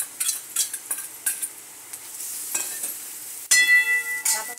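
Noodles are tossed into a hot pan and stirred, giving a series of clinking utensil scrapes and taps, then a louder metallic ring with a faint sizzle.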